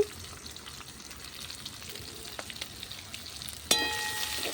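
Chopped onion fries in a little oil in a pan on a clay stove outdoors, giving a steady, moderate sizzle with light crackles, then a sharper clatter and louder burst toward the end.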